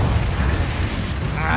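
A Confringo fire spell in Hogwarts Legacy explodes in a dense, sustained booming burst of low rumble and crackle, with game combat noise blended in throughout.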